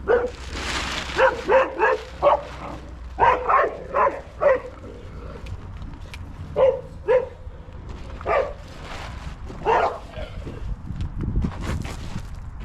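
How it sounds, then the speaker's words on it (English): A boxer dog barks repeatedly in short, uneven bursts, fairly close, with some footstep-like shuffling between barks. "Anybody need a boxer dog?"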